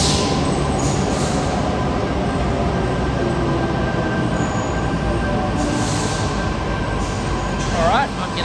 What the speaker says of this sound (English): a Tangara arriving onto platform number 2 for a Cronulla service